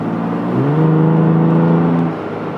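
Third-generation Toyota Tacoma engine revving under throttle, a loud close rising drone that holds for about a second and a half, then drops back to idle.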